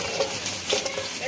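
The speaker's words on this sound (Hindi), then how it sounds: "तो प्याज को हल्का ब्राउन कर लेंगे इधर।" Onions fry and sizzle in a large pot of oil for a mutton daigh, with steady broadband crackle and occasional stirring scrapes throughout.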